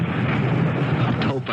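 A storm-like rumbling sound effect from a radio drama rolls on as a dense, steady roar for about a second and a half, loud and continuous with no voices over it.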